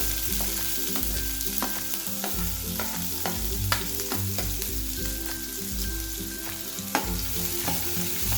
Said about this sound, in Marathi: एक ते दोन सेकंद आपण कांदा परतून घेऊ